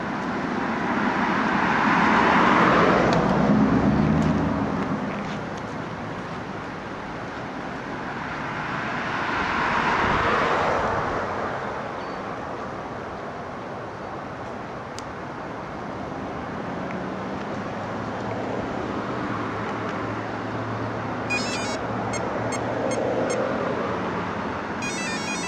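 An electric Savage XL RC truck running on two 2-cell LiPo batteries whirs and surges in broad swells, loudest near the start and again around ten seconds, then keeps on as a steadier drone.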